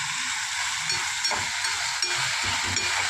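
Diced potato sautéing in oil in a pan for soyabean bhurji, giving a steady, close sizzle with soft stirring scrapes and no talking.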